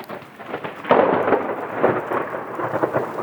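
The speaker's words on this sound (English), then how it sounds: "That's a lot of rain." Heavy rain pours down in a thunderstorm, a dense, loud roar of downpour with rumbling thunder surges throughout, no speech.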